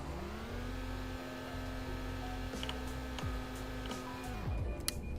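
A base-trim Toyota Corolla's engine drones steadily from inside the cabin while it holds speed toward 50 mph for an emergency braking test, then the engine note drops away abruptly near the end.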